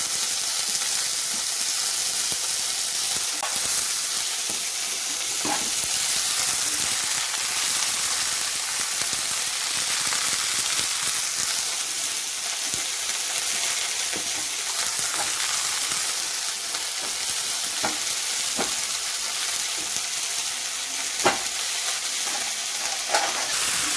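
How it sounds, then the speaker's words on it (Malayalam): Drumstick (moringa) leaves and flowers sautéing in a pan for a Kerala-style thoran, a steady close sizzle and crackle running throughout with occasional stirring scrapes and clicks, no voices. "പൂ ഇട്ട് നമ്മളൊന്ന് വഴറ്റിയെടുക്കണം."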